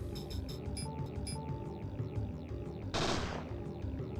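Gunfire crackles in Parasite Eve II as rapid, close shots fire in quick succession. A louder, harsher burst cuts in near the end, and a steady game hum runs underneath.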